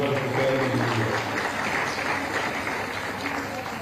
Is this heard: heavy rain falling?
no